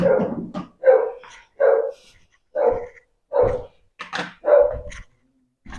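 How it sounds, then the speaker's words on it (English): Repeated dog barks, around eight in an uneven series with brief gaps, moderately loud and unaccompanied by talking. "I don't know if y'all can hear that dog barking outside."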